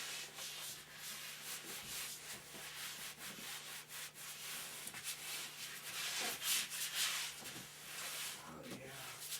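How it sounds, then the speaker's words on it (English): Sandpaper rubbing over the painted surface of a large horse sculpture to remove a squished bug, a steady close scratchy friction with repeated strokes and a low background hum, people talking intermittently. "It'll sandpaper right off."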